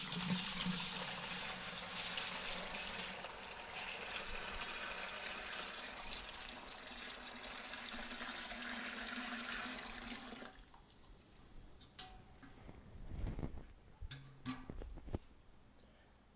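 Homebrew wort from an extract kit is dumped into a sanitized fermenter bucket, a loud continuous gushing pour for about ten seconds, then quieter trickles, drips and handling knocks.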